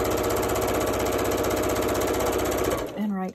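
A sewing machine stitches quilt pieces with a steady, loud mechanical whir for nearly three seconds, then slows and stops as a voice begins speaking.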